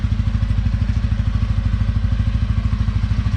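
TVS Ronin motorcycle engine idling steadily up close, a smooth, even low thrum with a fast regular pulse and faint mechanical clatter, no talk.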